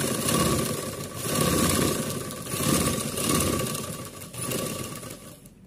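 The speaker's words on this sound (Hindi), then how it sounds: "पट्टी में लग के सिलाई मारना है।" A sewing machine stitches a strip along the hem of a gown, its steady motor whir rising and falling in several long runs of stitching, close and fairly loud.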